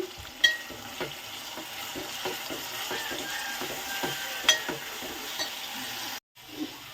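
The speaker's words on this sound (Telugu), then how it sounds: "ఉల్లిపాయ టమాటా అయితే వేగుతుందండి. మంచిగా ఒక గరిటె తీసేసుకుని వేపేసుకుందాం" Onion and tomato frying in a pan, stirred with a ladle: steady sizzling runs throughout with repeated scraping strokes, a few louder knocks, and a brief silence near the end.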